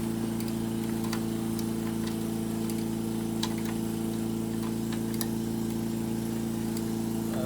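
Old Victa lawn mower with a Tecumseh TVS90 engine idling steadily, a continuous low mechanical hum with a fast, even tick, with occasional light knocks and clicks nearby.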